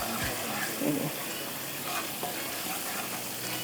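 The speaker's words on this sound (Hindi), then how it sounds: "तो इसको हम इस तरह से फ्राई करते हैं, ये देखें अच्छी तरह से।" Kebabs frying in butter in a pan: a steady, close, broadband sizzle that hisses continuously throughout, with a few soft stirring knocks.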